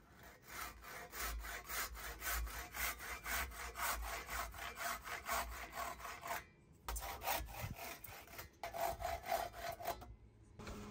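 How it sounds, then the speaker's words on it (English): Hand saw cutting off protruding wooden pegs flush at a draw-bored timber framing joint, a steady rhythmic back-and-forth rasping of many quick strokes, close and loud, with brief pauses near the end. "on this side, just cut the pegs off"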